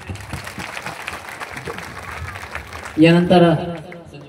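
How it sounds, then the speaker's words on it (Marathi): A village crowd at a road inauguration ceremony in Anchalgaon breaks into a short burst of applause honoring the guardian minister, following a stretch of amplified talk over the public address. "प्रचंड टाळ्यांच्या गजरामध्ये त्यांचा सत्कार करूया"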